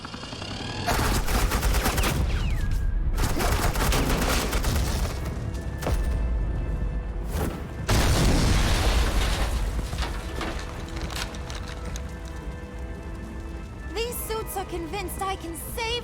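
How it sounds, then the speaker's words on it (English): Sustained gunfire from Batman: The Enemy Within, with dense, loud automatic bursts and booming shots roaring almost continuously and a brief gap midway, under a game music bed. "Suppressing fire."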